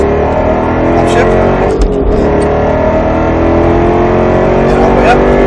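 Roush Mustang RS3 accelerating on a track at Speed Vegas after an upshift, a loud, close, steady engine drone rising in pitch, with a brief thump and voices talking over it.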